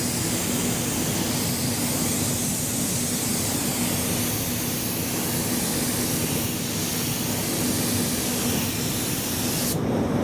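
A spray gun applies paint to a car or truck panel in a training booth, giving a loud steady hiss that runs unbroken, with no talking.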